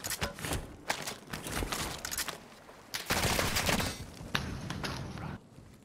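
Gunfire in Call of Duty: Modern Warfare II crackles in rapid, overlapping bursts down a hallway, loud and near, with a dense sustained volley in the middle and brief pauses between shots.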